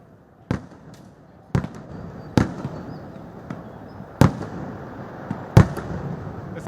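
Thrissur Pooram fireworks from the Thiruvambadi side: sharp booming blasts go off about six times at irregular intervals over a steady crowd rumble, some louder and closer than others.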